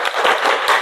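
A classroom group clapping together on count, a dense burst of hand claps with a few stronger beats, no voices.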